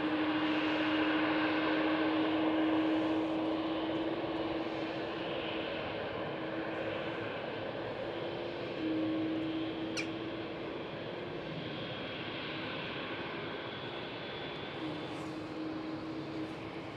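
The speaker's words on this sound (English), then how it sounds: "KLM Cityhopper E175 departure, runway 24." A KLM Cityhopper Embraer E175 departs runway 24 at Amsterdam Schiphol, a steady distant jet roar with a droning engine tone that slowly fades, heard from outside the airfield.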